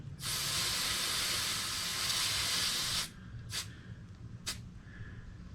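Air hisses steadily out of a tubeless bicycle tire on a spoked rim, a loud, close, continuous rush lasting about three seconds, followed by two short bursts of hissing.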